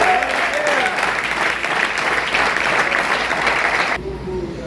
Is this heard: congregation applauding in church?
yes